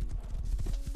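A horse's hooves clip-clop in quick, even steps in the survival game Rust, heavy thuds repeating steadily and close by with no voices over them.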